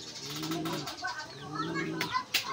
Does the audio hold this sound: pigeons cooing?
yes